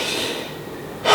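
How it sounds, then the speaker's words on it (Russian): Heavy breathing inside a knight's helmet after a fight: a long, rough exhale followed by a sharp, loud inhale, close and muffled, with no talk. "То есть дышишь, но дышишь тяжело, но стоишь"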